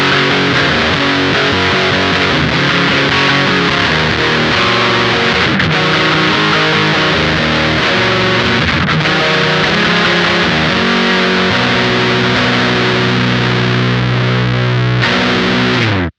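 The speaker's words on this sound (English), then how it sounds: "So we have a hard clipping distortion" Electric guitar played through an O.C.E. Lineman, a Rat-style hard-clipping distortion pedal, giving a loud, thick, saturated tone with sustained chords and riffs throughout.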